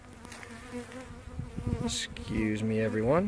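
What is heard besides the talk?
honey bees buzzing at the hive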